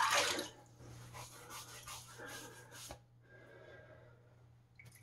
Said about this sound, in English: I'm just going to wet my face real quick